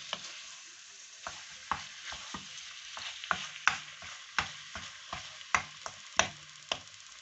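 Spring roll filling is stir-fried in a pan, with a soft continuous sizzle and regular sharp spatula scrapes and taps every half second or so, close and clear with no talking.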